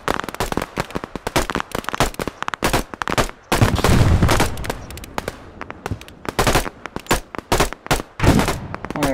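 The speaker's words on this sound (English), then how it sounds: "There's still someone here, they're firing their gun." Video game gunfire crackles in dense irregular volleys, loud and close. Rapid shots overlap into sustained bursts with short gaps between them, and a faint voice can be heard underneath.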